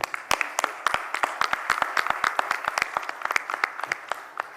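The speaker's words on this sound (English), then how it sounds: "Again, one more round of applause for the panelists." Sustained applause from a conference audience in an auditorium, dense clapping with some sharper individual claps standing out, steady and fairly close throughout.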